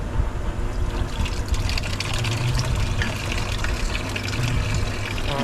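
Water rinsing and trickling inside a part of an old Cub Cadet tractor, a steady splashing gush with uneven dribbles, fairly close, with no talk.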